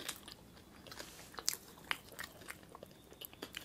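Soft, quiet bites into a cream-filled boba cake, with a few faint crunches and chewing sounds up close and no talking.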